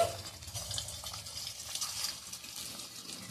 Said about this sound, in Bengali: এখন আমি একটা করে ভেজে নিচ্ছি